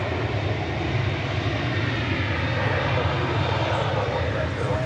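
An airliner, a flight from Columbia, Missouri, arriving at DFW airport in Texas, its engine roar steady and loud throughout with broad rumbling noise, as if passing fairly close overhead.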